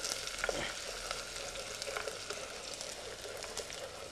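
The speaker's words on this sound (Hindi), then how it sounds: "प्याज को डाल के थोड़ा सा भून लेते हैं" Onions frying in hot oil in a pan, a dense continuous crackling sizzle that stays fairly even throughout, with a couple of faint stirring knocks early on and no voices.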